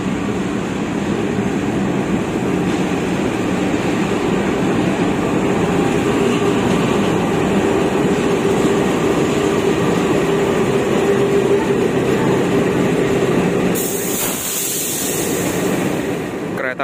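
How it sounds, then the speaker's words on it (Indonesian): Jayabaya passenger train with a CC 206 diesel locomotive at Surabaya Gubeng station, a steady loud engine drone and rail rumble that holds throughout, with a hissing burst near the end. "Kereta api Jayabaya telah tersedia di jalur 5 stasiun Surabaya Gubeng dengan lokomotif CC 206 1385"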